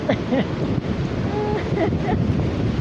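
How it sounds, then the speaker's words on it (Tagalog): Gusty wind buffets the microphone over rolling sea waves at high tide on a beach in La Union, Philippines, after a storm, with faint voices mixed into the steady roar. "it's high tide. Oh, it's still windy"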